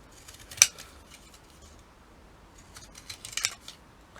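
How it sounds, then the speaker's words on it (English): Pinking shears cut through paper in two short snipping bursts, close and crisp, with a quiet pause between them and no talking. "And I don't even feel guilty about using pink and shears on paper."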